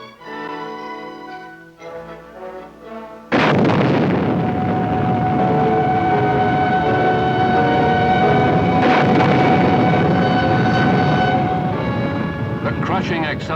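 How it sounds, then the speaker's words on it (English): Nike Hercules missile test firing on a range over southern New Mexico: a brief lower rumble, then a sudden loud, sustained roaring blast with a harsh tonal whine that holds steady for about ten seconds. "Crushing acceleration and searing heat of the Hercules splits the skies over southern New Mexico"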